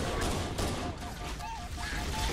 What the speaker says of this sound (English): Trying to use this fucking pistol.